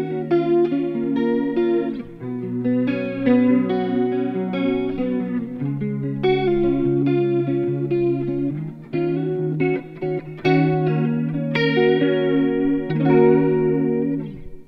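Electric guitar played through a Valeton Coral Mod chorus pedal with a deep modulation setting, giving a shimmering, slightly detuned wobble to sustained chords and melodic lines that ring steadily for the whole passage, with no talking.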